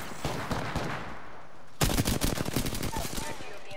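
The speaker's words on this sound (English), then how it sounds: "I'm taking shots." Rapid Apex Legends gunfire crackles in bursts, with a quieter stretch of shots followed by a louder, sustained spray of close automatic fire.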